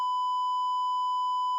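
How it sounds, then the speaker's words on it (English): A single steady electronic bleep, one continuous high-pitched tone that holds evenly for under two seconds and then cuts off. "Oh, beep."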